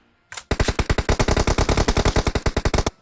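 Rapid automatic gunfire in the mobile battle-royale game PUBG Mobile: one shot, a brief pause, then a fast, even burst of about twenty-five loud close shots.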